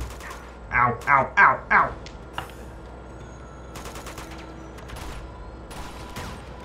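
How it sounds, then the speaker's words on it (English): Gunfire in Uncharted 2: Among Thieves, a quick burst of four loud, closely spaced shots followed by scattered quieter shots and clatter, with a player's voice reacting over it. "Who's shooting me?"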